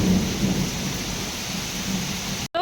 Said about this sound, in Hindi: आज देखो बरसात कितनी हो गई है।